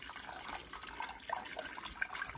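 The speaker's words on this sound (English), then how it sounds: "So as I pour this in here," Cornstarch mixed with water pours into a crockpot of pot roast and vegetables, giving a soft, close trickle with a few small splashes and drips over a brief stretch.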